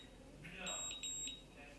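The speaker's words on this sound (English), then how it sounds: "and then you're gonna hear a double beep." An automatic hair curler gives a double beep when finished, two short high electronic tones in quick succession, faint but clear over a low background hum.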